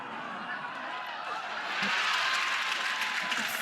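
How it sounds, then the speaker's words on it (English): A softball crowd at a Tennessee Volunteers versus Oklahoma Sooners game reacts to a foul ball behind the plate: a steady stadium murmur that swells into a louder burst of cheering and scattered applause midway through. "Foul ball behind the plates. There's a little bit of a reaction from the crowd that hadn't seen it yet."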